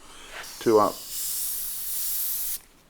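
An airbrush sprays paint past a handheld freehand stencil as part of painting a skull, giving one steady airy hiss of about a second and a half that follows a brief voiced sound.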